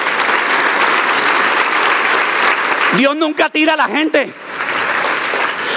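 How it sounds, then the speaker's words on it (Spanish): A church congregation applauding during a sermon, steady loud clapping that dips while someone shouts over it, then the clapping continues. "Le das un aplauso al Dios del amor."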